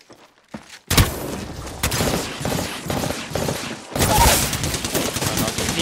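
Video game gunfire comes in sharp bursts: a few scattered shots, then a sustained rattling volley, a pause, and another loud fusillade, with voices talking over parts of it.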